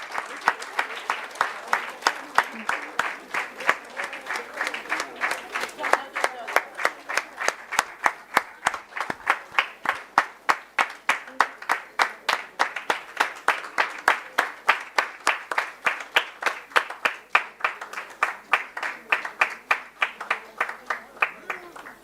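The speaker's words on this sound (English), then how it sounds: "Come on, we can have a round of applause." An audience at an awards ceremony breaks into sustained applause, dense crowd clapping with a steady rhythmic beat that carries on for over twenty seconds, loud and fairly close.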